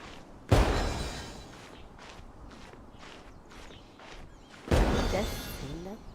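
Two bursts of fireworks going off in Genshin Impact, the first sharp pop landing early and the second about four seconds later, each followed by a short crackling tail, with quieter game sounds in between.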